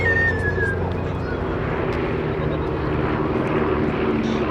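A formation of three Chipmunk propeller aircraft makes a pass down the crowd line at a 2019 airshow, giving a loud, sustained engine drone with whistling overtones that holds steady across the pass.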